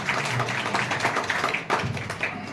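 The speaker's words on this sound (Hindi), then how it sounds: "जोरदार ताली बजाएं।" A crowd at an honour ceremony in Shankarpur, Nathnagar claps in a dense, continuous patter of many hands for a couple of seconds, fairly close and moderately loud.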